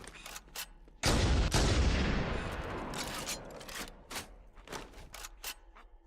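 Gunfire in Halo: Combat Evolved, a heavy burst opening with a loud boom and a long decaying roar, followed by a string of sharper, separate shots, close and loud.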